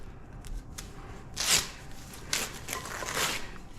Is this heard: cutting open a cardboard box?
yes